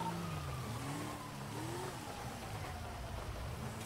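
A car in a video game revs and pulls away, its pitch sliding as it moves off, with steady noisy background and no talking.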